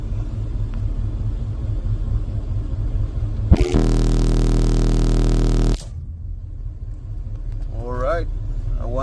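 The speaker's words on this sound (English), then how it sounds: "So we're gonna burp it at 40 hertz on the kick." A truck car-audio system, with two Crescendo 17k amplifiers driving four Fi HC18 subwoofers at 1 ohm, lets out a single loud 40 Hz bass burp lasting about two seconds. Voices talk before and after the burp.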